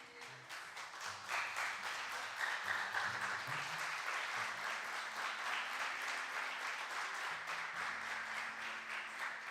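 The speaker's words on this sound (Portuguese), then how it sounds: "Quem vem comigo fica de pé e aplaude o Senhor." A church congregation on its feet applauding, a dense, steady wash of many hands clapping that holds throughout, with faint voices mixed in underneath.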